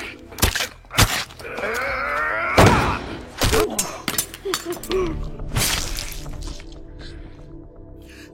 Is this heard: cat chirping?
no